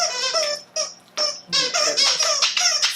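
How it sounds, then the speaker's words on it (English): Repeated high-pitched squeaks from a rubber dog toy, in quick irregular bursts with brief pauses, close and fairly loud. "They all love squeaky toys."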